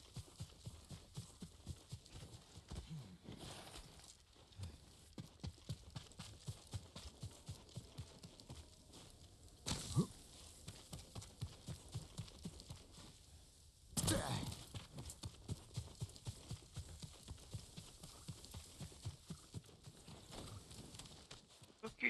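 Horse hooves clip-clopping in a steady, even walking rhythm in Ghost of Tsushima, continuous throughout with a few louder bursts of background noise, while a person talks over it.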